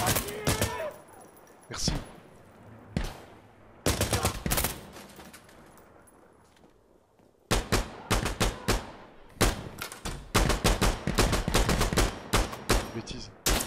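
Loud bursts of automatic and single-shot gunfire in the tactical shooter Insurgency Sandstorm, sharp repeated cracks in uneven clusters with pauses between, under occasional talk.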